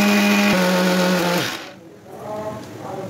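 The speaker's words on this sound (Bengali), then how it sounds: "এটাকে এবার আমি মিক্সারে বাঁধবো।" An electric mixer grinder whirs loudly as it blends green chillies with chilli powder, coriander powder and cumin powder. The motor's droning whine holds for about a second and a half, then spins down, and the machine stays quieter afterward.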